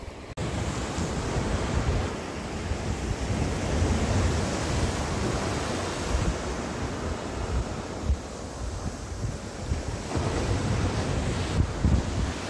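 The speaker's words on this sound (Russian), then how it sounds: "Ветер дует, волны есть." Wind blowing over the sea with waves washing onto the shore on a windy day, a steady broad roar of surf and gusts buffeting the microphone, continuous throughout with no voices.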